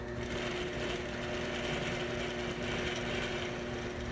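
A sewing machine stitches raw-edge appliqué leaves onto fabric with a steady, continuous mechanical whir and a fine rapid needle patter. It sounds close and fairly loud throughout, with no talking.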